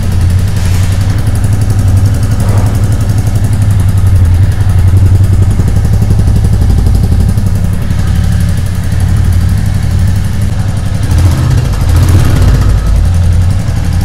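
A 2022 Classic 350 motorcycle engine idles steadily and loudly up close, a continuous low throbbing rumble with mechanical clatter, no voices.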